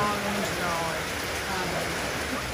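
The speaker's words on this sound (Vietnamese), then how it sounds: "Mưa quá giờ." Steady rain falling outdoors on Phu Quoc island, a dense even hiss of drops that continues without a break, with faint voices talking beneath it.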